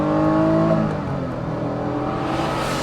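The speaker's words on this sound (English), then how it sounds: "Having that naturally aspirated engine so that it's as sharp as the chassis." A Honda NSX-R with its naturally aspirated engine driving along, a steady mid-volume engine drone from inside the car that eases slightly after the first second and holds on, with no talking.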